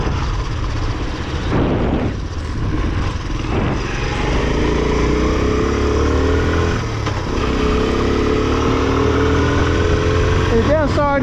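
A trail motorbike engine runs steadily on country lanes in North Devon, a loud continuous mid-pitched drone that swells and settles with throttle changes, heard close throughout.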